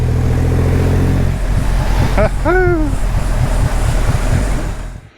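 Triumph Rocket 3R motorcycle pulling hard in top gear, a loud steady engine drone with heavy wind rush throughout, a brief rising whine near the middle, easing off at the very end.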